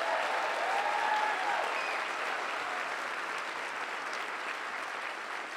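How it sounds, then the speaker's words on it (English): An audience at a Westchester County executive inauguration ceremony gives a sustained round of applause, a dense, even wash of many hands clapping throughout, steady and moderately loud with no speech over it. "George Latimer, let's give him a round of applause"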